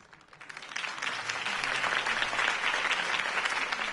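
Steady crowd applause in a Batman video game builds over the first second, then holds as a dense wash of clapping from a large audience, with no voices.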